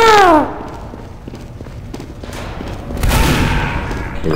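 Rapid video game gunfire, dense bursts of booming shots and thuds, loud and close, with a descending whistle at the start and a heavier barrage toward the end.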